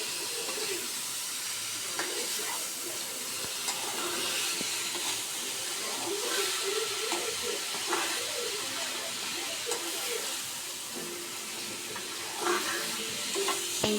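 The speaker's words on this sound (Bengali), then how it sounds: "সুন্দর করে কষে নিছি" Food sautéed and fried in a pan on a gas stove gives off a steady, close sizzling hiss, with faint stirring clatter scattered through it.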